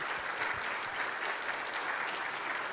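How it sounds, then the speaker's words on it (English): Audience at a mayor's breakfast event applauding the sponsors, a dense, steady wash of many hands clapping throughout, moderately loud, with no speech over it. "So big round of applause one more time for our sponsors."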